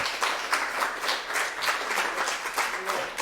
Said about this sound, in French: bravo, applaudissements déjà pour Johan